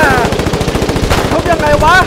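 Rapid automatic gunfire rattles steadily and loudly from a Foxhole war battle, a dense stream of shots with brief voice-like tones surfacing near the end.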